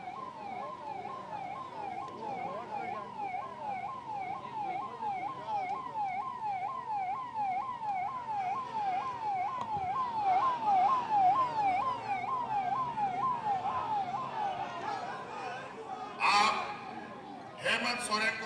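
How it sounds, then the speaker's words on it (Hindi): An ambulance siren wails in a repeating, steady rising-falling pattern while the vehicle is stuck in a dense crowd at a political rally, with someone talking over a loudspeaker and brief sharp noises near the end. "जरा यहां एम्बुलेंस फंस रहा है, इसको एम्बुलेंस को फंसने ना दे, एम्बुलेंस को निकाल दो"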